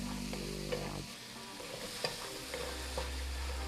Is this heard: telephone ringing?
no